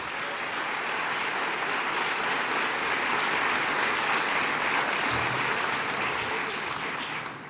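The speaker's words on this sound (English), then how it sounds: "Round of applause." An audience applauds at the opening of the new Terminal A at Newark airport, with sustained, dense clapping from a large crowd that swells slightly in the middle and tapers off at the end.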